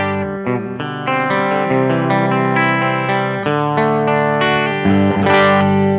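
An electric guitar built like a mahogany Telecaster plays through an Achilles Vibralux Reverb replica amp, ringing out clean, sustained chords and single notes with a little reverb and a loud, full tone.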